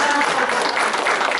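Brief burst of children's applause during a library storytime, dense and loud clapping from a small group lasting only a moment.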